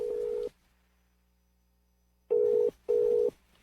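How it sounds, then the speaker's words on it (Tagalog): A telephone line rings while a call goes out to a cellphone. A steady tone plays briefly, stops during a long pause, then comes back as two separate beeps, clear and close against a quiet background. "Kisay tawagan mo na yung cellphone, Kuya Hans."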